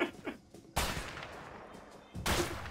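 Gunfire in the co-op action game A Way Out during jungle fighting around a compound: a few quick shots early on, then two loud, sustained bursts of shooting separated by a short lull.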